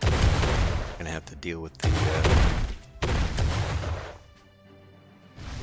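Repeated cannon blasts from the naval video game Uncharted Ocean, loud booming bursts one after another with someone talking over them, then fading to quieter game tones near the end.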